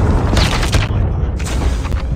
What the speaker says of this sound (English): Be advised, hostile predator missile inbound.